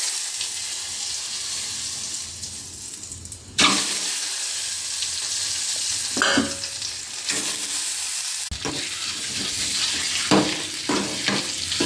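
Boiled eggs fry in oil seasoned with salt, turmeric and garam masala, crackling close and loud, with several bursts of stirring and spatula scrapes against the pan and no voices.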